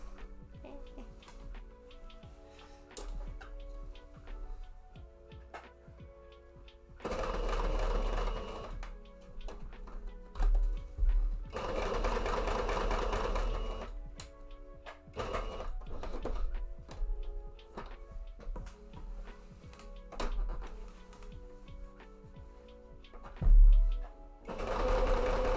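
Sewing machine stitching a cape mock-up, running in several rapid bursts of differing length with quieter handling clicks and pauses between them.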